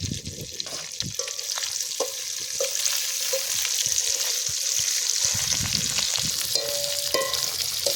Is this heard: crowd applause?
no